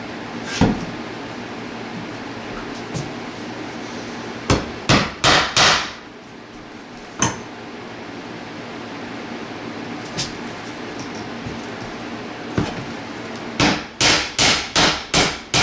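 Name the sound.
hammering a nail into a wooden door side board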